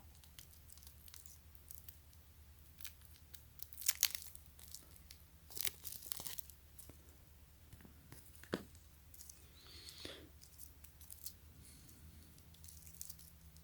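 Plastic packaging for a Samsung Galaxy Watch stainless steel band is peeled and torn open, quiet crinkles and a few sharp rips and crunches in scattered bursts over a low hum.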